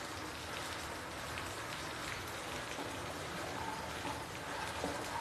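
Turmeric and Kashmiri chilli powder sizzle in hot oil, a steady, dense, hissing crackle that stays even and close throughout with no voices over it.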